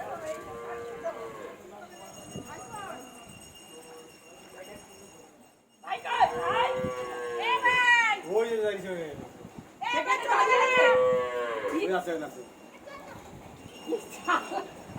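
Cows and a calf low and moo on a farm, loud harmonic calls bunching in the second half with quieter calls earlier, while people talk nearby.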